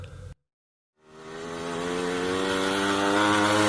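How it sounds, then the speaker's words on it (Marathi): A motorcycle engine starts after a brief silence and revs up into a steady, loud drone that holds to the end. "मोटरसायकल."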